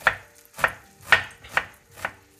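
Five crisp knife strokes through an onion on a cutting board, evenly spaced about half a second apart, close and fairly loud with no voices, made while preparing a pepper meze dish.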